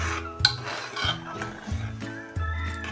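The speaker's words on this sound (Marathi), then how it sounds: "चांगलं मिसळून घ्या" Ingredients mixed in a pot with a spoon, with salt, sugar and a spoonful of ghee, giving repeated metallic scraping and clinking strokes against the pot, close and loud, several in a row with no talk.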